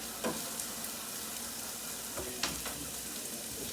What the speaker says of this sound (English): Let this saute a minute.